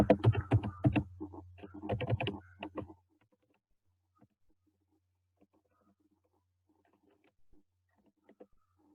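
Rapid computer-keyboard typing while C++ code is entered, a dense close burst of clicks over a low hum for about three seconds before it falls almost silent, with only a few faint taps afterward.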